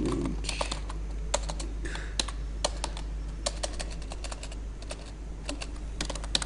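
Code being typed on a computer keyboard: irregular bursts of crisp key clicks, close and fairly quiet, over a steady low electrical hum, with no talking.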